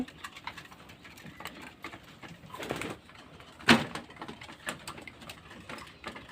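Pigeons coo and shuffle while feeding on a balanced mixed feed, with soft pecking and wing rustles throughout and one sharp, louder burst near the middle. No voices are heard.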